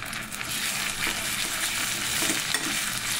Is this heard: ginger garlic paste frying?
yes